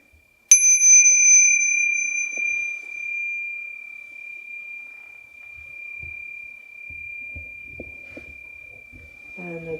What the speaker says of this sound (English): A bell to bow to each other.